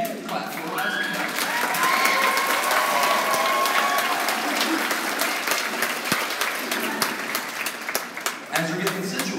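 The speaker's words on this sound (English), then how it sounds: "Yeah, you can clap for us." A concert audience claps for a school choir at a spring concert, a steady wash of applause that thins out toward the end, with some background stirring.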